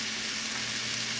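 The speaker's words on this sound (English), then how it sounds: "I'm going to leave my onions in here and just let them cook." Onions frying in a pan give a steady, close sizzle that holds evenly throughout with no talking.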